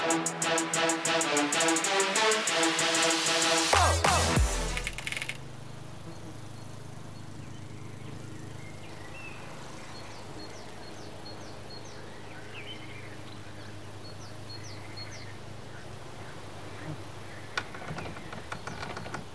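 After a loud burst of game music, the Inferno map ambience in Counter-Strike: Global Offensive settles into a quiet outdoor bed with faint insect buzzing and occasional short bird chirps in the distance.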